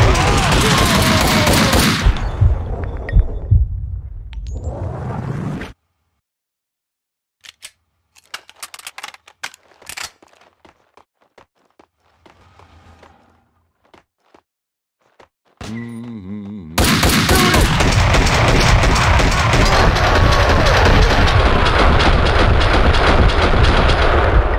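Gunfire in Max Payne 2, with loud dense shooting at the start and end around a stretch of near silence holding scattered sharp shots and clanks.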